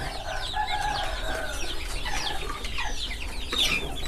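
Native country chickens on a poultry farm: many birds cluck and chatter at once, close and busy, with a brief higher squawk near the end.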